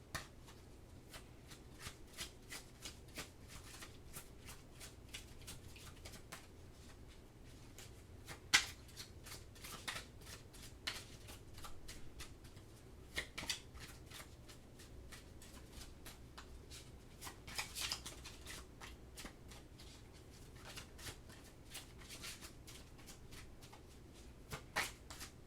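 Oracle cards being shuffled by hand, a steady run of soft papery riffles and snaps that stays close and fairly quiet throughout, with no talking over it.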